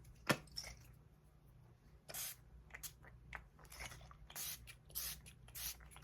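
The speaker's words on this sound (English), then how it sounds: "This is just a little water and lavender spray that I put in my old" An atomizer bottle filled with water and lavender mist gives several short, soft hissing sprays at uneven intervals, quiet and close in an otherwise still room.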